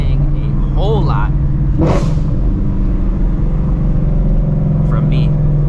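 A Shelby GT350 Mustang engine rumbles low and steady during a night drive, with a brief rev swell partway through, while someone talks over it.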